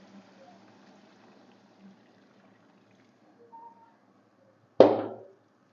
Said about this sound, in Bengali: তো আমি এবারে গরম জলটা দিয়ে দেবো।